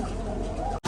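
A pigeon coos softly up close, a low, rolling, continuous murmur that breaks off sharply just before the end, with no voices.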